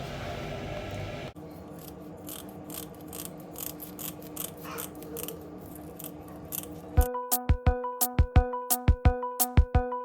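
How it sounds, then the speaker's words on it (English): Kitchen scissors snip through raw catfish while it is being prepared for grilling, with soft rubbing and handling noises first, then a run of sharp, close, rhythmic metallic cuts growing louder toward the end. "Having a pair of kitchen scissors is definitely going to help you get this job done very smoothly."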